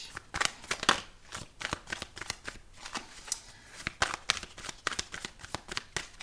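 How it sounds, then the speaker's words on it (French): Tarot cards riffled and shuffled by hand, a dense, rapid patter of papery flicks and slaps close up, continuing steadily throughout without talking. "Pendant que je brasse les cartes"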